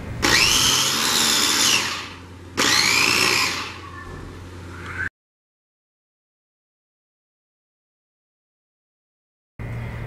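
An electric chopper grinding green chillies into paste whirs loudly in two bursts of a few seconds each, a high buzzing motor whine, followed by a long silence and a brief restart at the very end.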